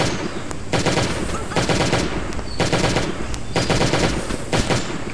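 Automatic gunfire from the zombie survival game Last Day on Earth: Survival rattles out in several loud, rapid bursts separated by short pauses.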